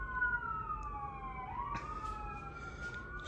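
Sirens wail in the distance outside a condo, their pitch sliding up and down in overlapping sweeps over a low rumble of traffic.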